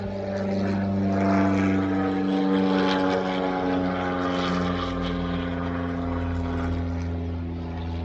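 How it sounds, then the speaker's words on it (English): A propeller airplane drones steadily overhead for the whole stretch, its engine hum loud and unbroken with a slight swell near the start and no voices over it. "So I'm not going to talk over the airplane."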